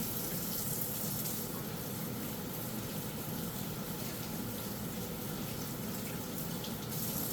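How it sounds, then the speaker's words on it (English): Kitchen tap water runs in a steady, moderate stream into a sink while hands are washed, an even rushing hiss throughout with no voices. "give my hands a quick wash"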